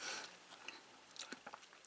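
Close, crunchy biting and chewing of soy-marinated raw crab with crackling bursts of shell, quiet and irregular with no talking.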